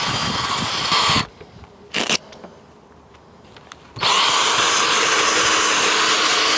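A machine polisher with a microfiber-covered pad buffs a GRP caravan front, a loud whirring drone that cuts out briefly with short bursts before running steadily again.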